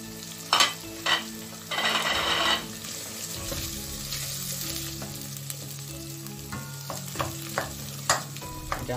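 Onion frying in a pan for a liver curry sizzles loudly at first with a burst of spattering, then settles into a steady hiss marked by repeated stirring knocks against the pan.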